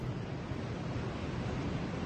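Steady broadband surf from the ocean below a hotel balcony in Vietnam, a continuous even wash of waves with some wind rumble and no voices.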